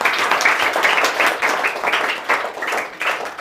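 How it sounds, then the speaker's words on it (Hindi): Children clap for a student at a village school visit, a dense and steady round of applause from a group nearby, with no talk over it. "अच्छा, ताली बजाओ कृष्णा के लिए।"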